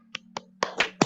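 A classroom of students performing a rhythmic clapping chant, a quick series of about five sharp claps that build from sparse single claps into a denser, louder burst, close and without voices.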